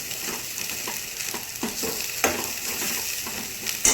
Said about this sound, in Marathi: ते ऑलरेडी तो मसाला फ्राय झालेला, ते आता मसाले टाकून घेते मी